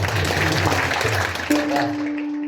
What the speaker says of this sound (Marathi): अजून एकदा टाळी वाजवा